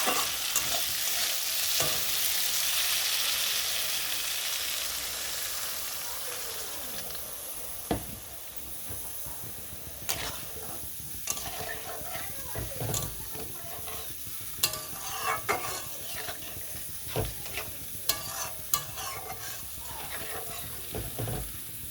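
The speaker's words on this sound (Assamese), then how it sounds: "মই কচু আৰু মাংসখিনি 2 মিনিট ভাজি ল'লোঁ" Pieces of taro and meat frying in a pan for an Assamese dish, a steady broad sizzle throughout with repeated scraping and clacking of a stirring spoon, close and fairly loud, no talking.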